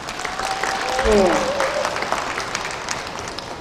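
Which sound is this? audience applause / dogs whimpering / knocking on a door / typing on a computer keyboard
audience applause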